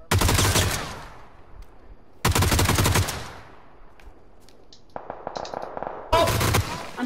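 Gunfire in a battle royale video game, three bursts of loud rapid automatic fire separated by quieter gaps with scattered distant shots, with no voices in between.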